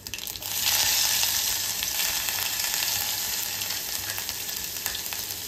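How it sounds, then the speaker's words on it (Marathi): Ginger garlic paste hitting hot oil with mustard seeds and cumin for kokum kadhi: a loud, steady, hissing sizzle up close with faint crackles. "त्यानंतर यामध्ये आलं लसणाची पेस्ट टाकायची आहे।"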